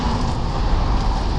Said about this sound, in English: that's all the cars you can hear